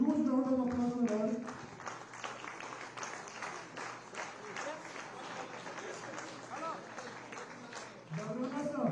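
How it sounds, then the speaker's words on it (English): A hall audience applauds the second runner-up at a junior world chess championship prize ceremony, steady sustained clapping lasting several seconds between an announcer's spoken lines. "a huge round of applause for her"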